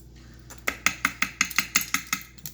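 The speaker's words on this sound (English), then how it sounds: "Okay, we're going to mix this together." A spoon strikes the side of a bowl in a quick steady rhythm, about a dozen bright clinks, while blueberry pie filling is stirred together with cornstarch; close and clear with no talk.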